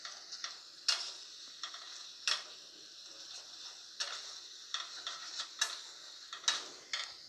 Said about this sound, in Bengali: মশলাটাকে কষাতে হবে যতক্ষণ না মশলা থেকে তেল বেরিয়ে আসে।